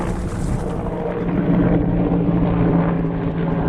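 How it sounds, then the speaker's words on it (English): Loud, steady helicopter rotor noise close by, a continuous heavy chopping roar that holds for the whole stretch with no voices. "Helicopter's pretty loud."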